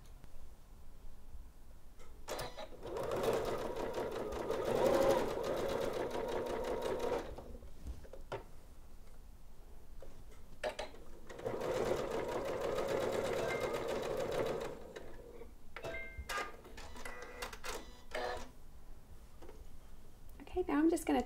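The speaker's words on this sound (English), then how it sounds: "I'm gonna sew across the top and down the side to make the button tab, just using a 1/4 inch seam allowance" A Janome sewing machine stitches across a fabric button tab in two long bursts of rapid, even whirring, with brief pauses and lighter handling clicks between runs, and a voice speaks over parts of it.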